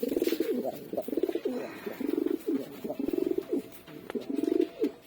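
A black-green pigeon coos close by in repeated soft, throaty phrases that come in short bursts with brief pauses between them.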